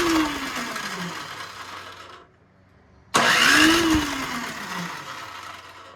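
A snow blower engine cranks on its push-button electric starter in two whirring bursts with a short silent pause between, close and loud, turning over without catching.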